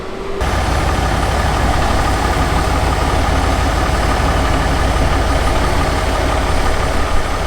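A tow truck's engine idles loud and close, a steady low droning rumble that holds without a break after a quick start.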